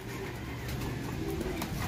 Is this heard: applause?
no